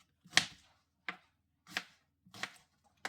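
Knife chopping onion on a board at home while preparing ingredients for fish paksiw: five distinct, close, sharp chops spaced unevenly with brief silences between, no talking.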